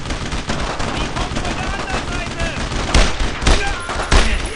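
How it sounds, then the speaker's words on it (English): Dense, continuous gunfire from a World War II squad battle in Brothers in Arms: Road to Hill 30, with rapid overlapping shots and heavier bursts near the end, while shouted voices mix in amid the chaos. "I need suppressing fire!"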